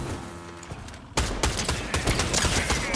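Rapid bursts of gunfire from a new weapon in Fortnite Battle Royale, fired at distant NPCs, start abruptly after a quiet musical stretch and continue as loud, dense volleys.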